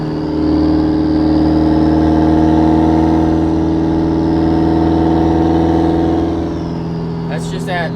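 Subaru WRX fitted with a hood exit exhaust, heard from inside the cab, holding a steady loud droning rumble around 2,500 RPM for several seconds before easing slightly at the end, with a brief voice near the close.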